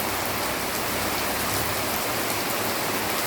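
Steady rain falls in rural Bengal, a dense, even hiss of drops on surfaces that holds constant throughout with no voices.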